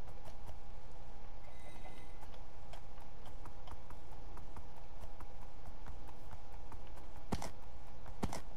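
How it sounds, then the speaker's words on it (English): Horse hooves clip-clop in a Minecraft game, a fast steady run of close, crisp hoof taps with a few louder knocks near the end. "Maybe there's more horses."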